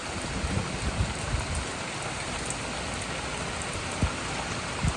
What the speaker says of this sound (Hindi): इस वक्त जो बारिश की आवाज़ है ना